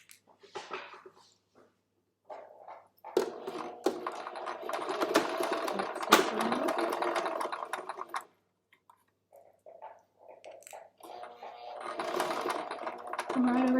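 A home sewing machine stitching fabric in bursts of fast, even mechanical whirring, with short pauses between runs while a person talks quietly.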